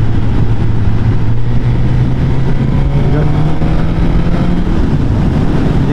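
Suzuki GSX-S1000F motorcycle pulling hard in one gear to overtake, a steady loud engine drone rising in pitch over several seconds, mixed with heavy wind rush.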